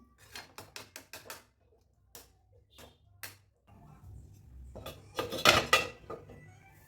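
Cauliflower being stirred in tomato gravy in a covered pan, with a spoon clinking and scraping in a series of sharp, close knocks, sparse at first and then denser and louder near the end.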